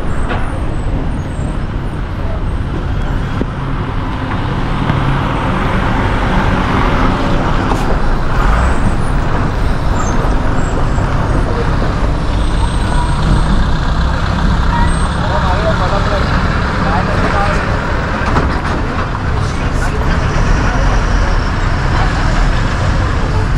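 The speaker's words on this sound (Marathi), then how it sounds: "तर हा आपला संगमेश्वर डेपो" Buses idle and move through the Sangameshwar bus depot in Ratnagiri, where construction work is under way, a steady loud rumble of engines and traffic with voices talking over it throughout.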